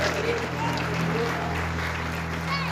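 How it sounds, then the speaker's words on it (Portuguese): A church congregation applauds together, a dense steady patter of many hands clapping at moderate volume, with a low tonal hum from the room running beneath it. "Você pode aplaudir a Jesus?"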